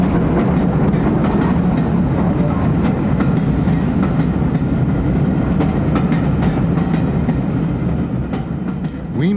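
A Great Western Railway train passes on the line, its loud rumble and rhythmic clickety-clack of wheels over rail joints running steadily close by before easing slightly at the end.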